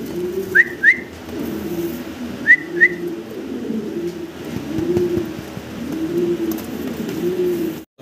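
Pigeons coo steadily at a busy pigeon market, a low, rolling murmur that rises and falls, broken by two pairs of sharp, high whistle-like chirps early on.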